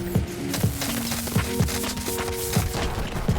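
Borderlands 3 combat with Amara: a weapon firing repeated punchy shots with explosive booms at a steady rhythm, several blasts over a few seconds amid busy game noise, no talk.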